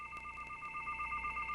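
Steady two-tone electronic telephone signal from a home alarm monitoring service's incoming call, fairly faint and continuous with a slight pulsing, no voices over it.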